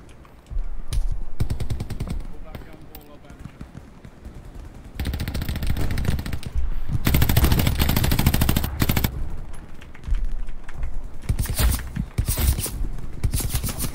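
Heavy machine-gun bursts from the video game Hell Let Loose rattle loud and close in long sustained volleys. Quieter shuffling and scraping movement fills the gaps between bursts.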